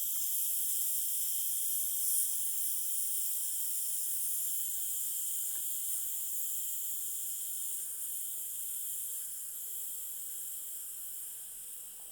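Steady hiss of steam from the pressure valve of a Kuhn Rikon Duromatic pressure cooker during a sweet potato and chickpea curry, a faint continuous airy rush that eases slightly toward the end.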